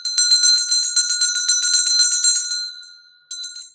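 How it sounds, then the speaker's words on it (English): A small bell rings in a rapid continuous jingle for about two and a half seconds, close and loud, then a brief second ring after a short pause. "I'm going to ring the bell"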